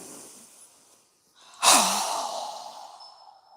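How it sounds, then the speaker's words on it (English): One strong, forceful breath during a yoga breathing exercise, rising sharply after a brief silence and then trailing off into a long, breathy hiss, close and loud. "So go ahead and inhale. Again. Strong breath."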